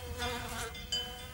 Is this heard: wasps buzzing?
yes